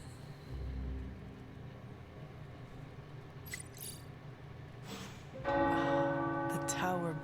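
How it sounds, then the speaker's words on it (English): Tower bells ring out in the video game Marvel's Midnight Suns, a loud cluster of overlapping, sustained metallic peals that bursts in near the end after a stretch of low ambient game sound. "The tower bells are ringing."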